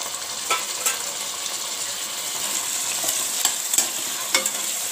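Onions and tomatoes sautéing in a pan for mutton biryani made with basmati rice, a steady loud sizzle with occasional light taps of a stirring spoon.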